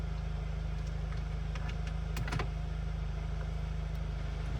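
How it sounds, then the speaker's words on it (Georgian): A tractor engine plowing a field runs at a steady, low, throbbing hum, faint and distant, with no other sounds and no talk. "ტრაქტორი ხნავს მინდო ველებს"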